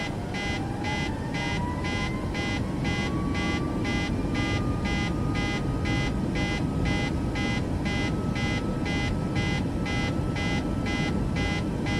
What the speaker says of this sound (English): Pardon the beeping.